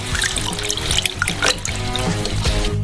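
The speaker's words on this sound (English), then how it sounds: "Pour in the milk" Milk pours into a frying pan of melted butter and flour for a cheese sauce, making a steady trickling, splashing stream close by with no talking.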